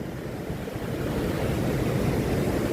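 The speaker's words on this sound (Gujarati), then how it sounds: "મચ્છુ ડેમ નંબર એક ઓવરફ્લો થયો છે" The Machchhu river runs high and fast below the overflowing Machchhu dam 1, a dense, steady roar of rushing floodwater that swells slightly and continues throughout, with wind on the microphone and no voices.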